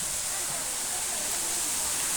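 Steady broadband rush of clear spring-fed river water at an old resort in Silang, Cavite, running continuously and fairly loud without pause.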